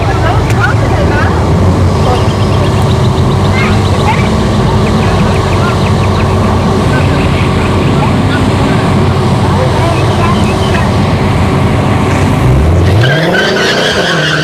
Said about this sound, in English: So Andrew with the Tesla Plaid channel going up against the Shelby